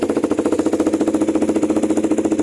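A KTM Duke 390 motorcycle fitted with an AR short-pipe muffler revs close by, its engine pulsing in a rapid, steady rhythm at a loud, continuous level with no talking.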